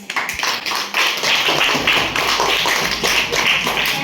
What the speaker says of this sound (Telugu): మనందరం ఒకసారి గట్టిగా క్లాప్స్తో కృతజ్ఞతలు తెలియజేద్దాము బిగ్ క్లాప్స్